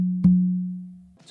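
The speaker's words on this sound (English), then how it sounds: "So 2 opens on that first tumbao to your non-dominant side." Two open tones on a conga drum, struck with the non-dominant hand as part of a tumbao pattern; a deep ringing note already sustains at the start, then one sharp strike renews it and it decays slowly, alone and close.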